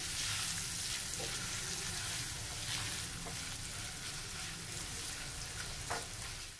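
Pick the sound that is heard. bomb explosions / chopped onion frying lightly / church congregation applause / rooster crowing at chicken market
chopped onion frying lightly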